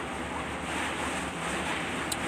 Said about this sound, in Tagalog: Hangin-hangin na naman.